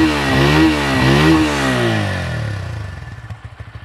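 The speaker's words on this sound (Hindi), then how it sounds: "अंदर बेली एग्जॉस्ट मिल जाता है और साउंड भी काफ़ी ज़्यादा अच्छा लगता है सुनने में।" A Bajaj Pulsar P150 motorcycle with a belly exhaust revs hard, its engine note rising and falling before settling into a slower, uneven idle thump, loud and close.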